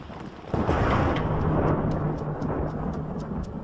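Thunder rolls through a storm on a coastline, with a sudden heavy rumble breaking in and then a long, loud sustained roar that carries on to the end, full and close.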